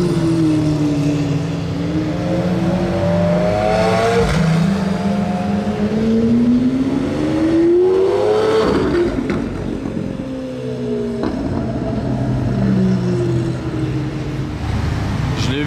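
A high-performance Lamborghini SV supercar engine revs and roars loudly, rising in pitch and falling back several times, with traffic noise around it.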